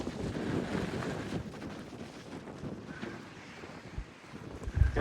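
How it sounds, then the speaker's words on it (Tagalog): Strong wind buffets the microphone at the Bighorn Dam site in gusty, rumbling bursts, with a steady rushing whoosh throughout and no voices. "Mahangin lang kasi guys"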